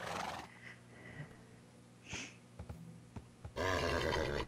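A horse in Minecraft neighs in a loud synthetic whinny at the start and end, with softer snorts and grunts in between and no talking.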